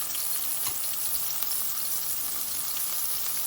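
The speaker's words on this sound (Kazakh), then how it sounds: "табамызға кішкене май құйып, енокиларымызды салып 2-3 минут сарғайғанша қуырып алатын боламыз." Enoki mushrooms fry in a little oil in a pan, giving a steady, close, even sizzle that runs throughout without pause or talk.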